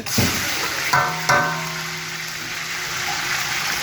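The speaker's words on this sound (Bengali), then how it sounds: "আলু ভাজার পরে তো ইয়া ভাজবেন না মুরগি ভাজবেন এখন মুরগি দেওয়া হচ্ছে" Chicken pieces are added to hot oil in a large pot after potatoes, at a charity community cooking, giving a loud steady sizzle with a couple of sharp splashes as pieces drop in, then a broad continuous hiss.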